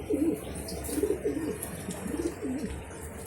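Pigeons coo nearby in a series of low, rolling throaty calls repeating every half second or so, close and clear, with faint higher chirps in the background.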